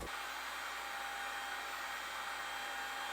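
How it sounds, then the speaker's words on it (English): Heat gun blowing steadily while warming honeycomb frames for honey extraction, a constant close airy roar with a faint tonal whine, unbroken for the whole stretch and no talking. "the heat gun approach did not really work out very well"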